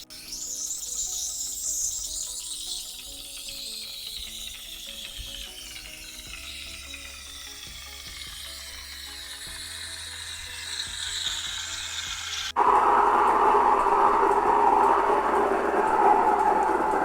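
A Delonghi Magnifica S 22.110 steam wand froths milk, a steady hiss that shifts gradually in pitch, then changes abruptly to a louder, rougher gurgling roar as the wand goes deeper into the milk; no talk.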